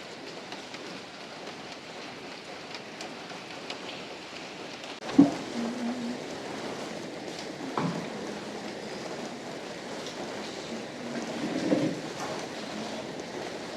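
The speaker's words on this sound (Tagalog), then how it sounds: "Maulan din ba dyan sa inyo guys? Dito sa amin pa. Mahina lang siya pero mamaya siguro babagsak." Light rain falls steadily as a soft, even hiss, with a few faint bumps and knocks nearby.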